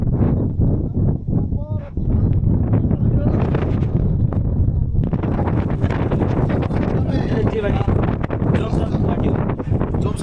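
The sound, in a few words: wind blowing near Kagbeni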